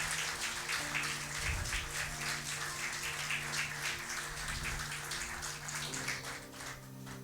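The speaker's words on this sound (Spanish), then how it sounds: "Dele un aplauso al Señor porque Él vive" A church congregation applauds during a service, a dense sustained wash of many clapping hands at moderate distance, steady throughout over a low tonal hum from the room.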